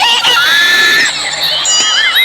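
A crowd at an outdoor celebrity night event in Jose Panganiban screams and shouts loudly and continuously, high-pitched voices rising together close by.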